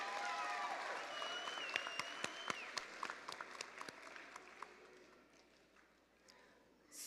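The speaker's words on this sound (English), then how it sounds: "Please give a round of applause for all of our valedictorian and salutatorian recipients tonight." Applause from a graduation ceremony audience, a dense wash of clapping with some louder individual claps standing out, gradually thinning and fading toward the end.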